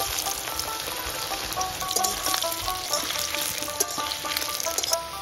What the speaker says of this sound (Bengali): ডুমো ডুমো করে কাটা আলুগুলো আগে ভেজে নেব।